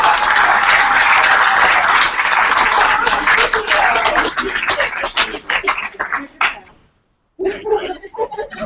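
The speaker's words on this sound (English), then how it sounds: "So round of applause for all of you" A theater audience at a university sexuality studies show gives a loud round of applause that thins into scattered claps before stopping, then a voice resumes speaking.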